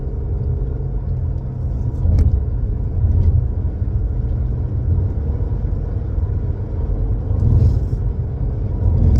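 A car drives along at steady speed with a continuous low road and engine rumble, swelling slightly as it moves to get past a slower vehicle ahead; no talking.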